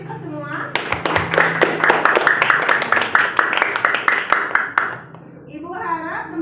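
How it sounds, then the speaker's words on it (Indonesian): A school class claps together for about four seconds in a quick, dense burst of many hands. A voice speaks just before and just after the clapping. "Tepuk tangan untuk kita semua."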